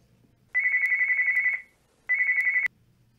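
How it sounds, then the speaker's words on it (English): A telephone ringing indoors in a dramatized story, two loud electronic trills with a short pause between, clear and close against a quiet background. "The phone rings."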